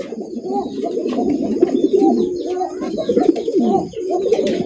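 Pigeons coo continuously up close, several overlapping low throaty calls rolling in a steady rhythm.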